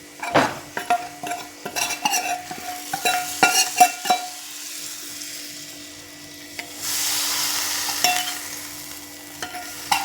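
Chili powder in hot oil is stirred with clinking metal utensil taps against a pan, then tipped into buttermilk curry, giving a brief rushing sizzle before more scattered clinks.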